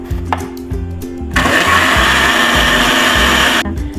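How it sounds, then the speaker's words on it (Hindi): An electric blender whirs as it purees cut peach into a smooth paste, starting with short pulses and then running steadily at high speed before cutting off, loud and close with no talking. "उसको कट करके आप ब्लेंडर में डाल के ब्लेंड कर लेंगे"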